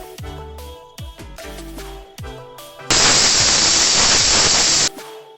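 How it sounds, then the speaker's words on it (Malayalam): Beef cooks in a pressure cooker for Kerala-style beef varattiyath: a few ringing metallic clanks, then a loud, close burst of hissing steam that lasts about two seconds and stops abruptly. "ഇനി ഈ ബീഫിനെ നമുക്ക് ഒരു കുക്കറിലേക്ക് മാറ്റി"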